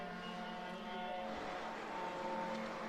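Race car with a noisy exhaust during a final-lap qualifying heat, a steady engine drone with harmonic whine holding throughout, moderately distant and fairly faint, no voices over it.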